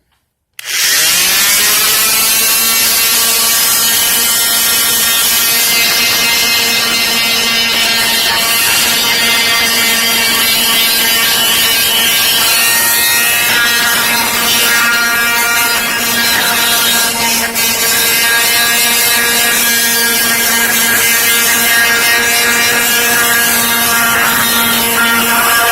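A power tool grinds continuously against a wooden door, stripping paint, varnish and stain in a workshop with a loud, steady, close whine and rasping scrape that runs unbroken for about twenty-five seconds after a sudden start.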